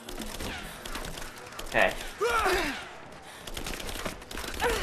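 Gunfire in Rise of the Tomb Raider: scattered shots and impacts crackle under a dense game soundscape, while someone talks and reacts over the action.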